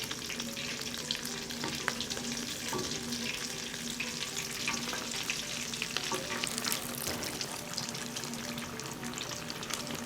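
Pakoras frying in hot oil in a pan, a dense, continuous close sizzle and crackle holding steady throughout with faint stirring or turning noises.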